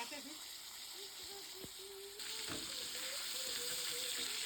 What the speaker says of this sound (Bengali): এদিকে দেখো বন্ধুরা আমি বাঁধাকপি কষাচ্ছি